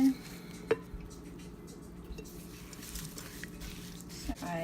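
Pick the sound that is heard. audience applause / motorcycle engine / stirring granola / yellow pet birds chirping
stirring granola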